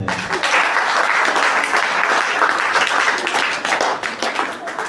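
Audience applause for a quiz team at an inter-house quiz and debate, loud dense clapping sustained for several seconds before tapering slightly at the end.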